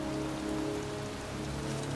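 Steady rain pours over a cemetery in the PS4 game Heavy Rain, a dense, even hiss of drops on the ground that holds at a constant level throughout with no voices.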